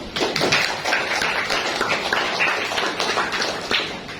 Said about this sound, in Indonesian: Tepuk tangan buat.